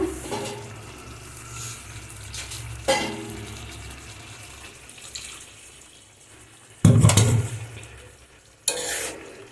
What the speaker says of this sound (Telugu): ఇంకొంచెం వాటర్ యాడ్ చేస్తాను